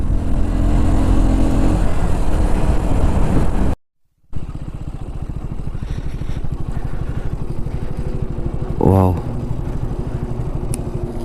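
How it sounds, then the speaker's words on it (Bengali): Vehicles speeding downhill on a mountain road in Arunachal, a steady loud engine and road roar with a brief cutout, then a passing horn-like tone near the end, heard from a moving bike. "ওরা ডাউন হিলে গাড়ি কত জোরে চালাচ্ছে"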